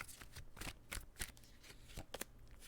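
Tarot cards shuffle in quick, crisp riffles, a rapid run of soft flicks and slaps up close and fairly quiet, with no voice over them.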